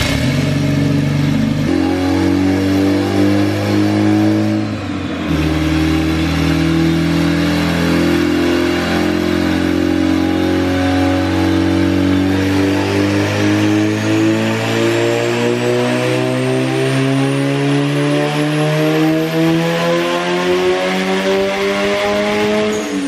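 A turbocharged single-cam Honda D15 engine running on a dynamometer, loud and steady, its pitch climbing smoothly as revs rise over a long sustained pull with no talk.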